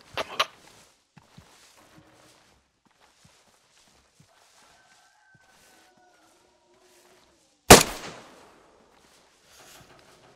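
Gunfire in a first-person shooter, two sharp shots with a long gap between them: a crack near the start and a louder blast later that rings out and decays. Scattered faint footsteps and small knocks sit in between.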